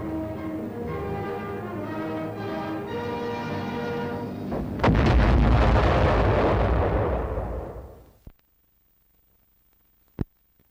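A projectile fired in war bursts with a heavy roaring blast over a sustained tonal drone, the rumble swelling and fading to near silence, then a single sharp crack.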